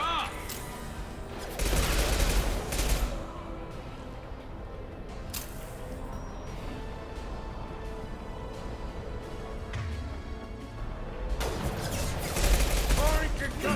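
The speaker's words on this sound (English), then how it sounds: "Firing concussive shots!" Concussive shots in the Mass Effect 2 video game, a few heavy, broad bursts spaced several seconds apart amid steady combat ambience, loud and close.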